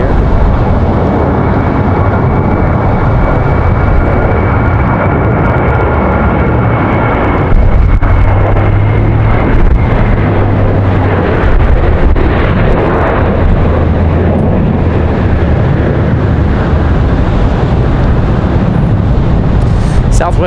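Aircraft departing the runway at Raleigh-Durham International Airport on a windy day, a loud, steady broadband jet roar with heavy wind rumble that holds throughout without letup.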